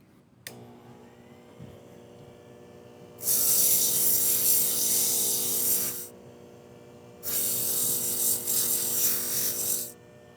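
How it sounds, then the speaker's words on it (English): Thinned leather for a pencil pouch is pressed against a powered sander in two passes of roughly three seconds each, giving a close, loud, steady rasping hiss over a constant machine hum. "take them over to the sander and just give them a touch, smooth everything out on that back side"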